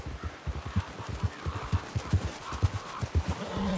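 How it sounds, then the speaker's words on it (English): Horse hooves clip-clop in Red Dead Redemption 2, a steady walking rhythm of soft, close thuds on the ground, with faint ambient background and no talking. "Get that horse in line, Arthur."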